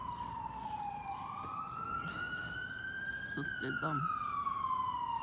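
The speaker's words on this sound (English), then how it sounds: "Oh, it's ambulance." An ambulance siren wails outside, its slow rising and falling tone sweeping past at moderate distance over a constant background hum, while a person speaks briefly partway through.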